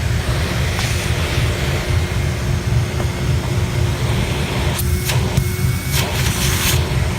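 A Kenmore 3.9 Powermate Magicord canister vacuum runs with a steady, even roar and hum, with a few faint higher whines and clicks near the end.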